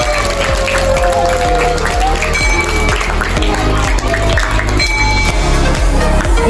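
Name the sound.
audience applause for children's presentation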